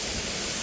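Mureung Falls waterfall at Naeyeonsan gives off a steady, dense rushing roar, close and even in loudness throughout, with no voices over it.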